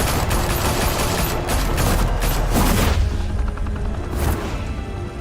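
Heavy sustained gunfire in Batman: The Telltale Series, a dense fusillade of rapid shots and booms that runs loud and continuous for the whole span with no voices.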